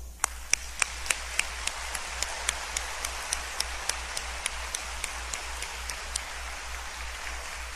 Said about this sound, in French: nous exprimons cette joie de vous accueillir par un concert d'applaudissements